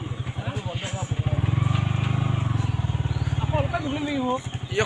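Motorcycle engines putter close by in a rapid, even beat, revving briefly before easing down as the bikes are parked at an eco camp, while a person speaks over them.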